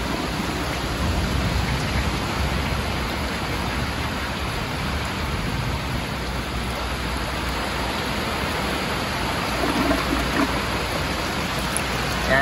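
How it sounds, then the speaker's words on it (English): A 1968 American Standard Cadet toilet flushing on half a tank, a steady, loud rushing and gushing of water that holds evenly from start to finish without pause. "Now I'll do a flush on half the tank once it reaches over that, and here's a flush."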